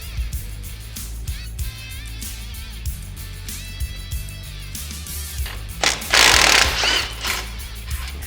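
Tie rods are removed from the steering knuckle of a Polaris RZR XP 1000 while installing a rack and pinion: a steady run of mechanical ratcheting and metallic tool clicks over a low hum, with a louder, rough burst of noise toward the end.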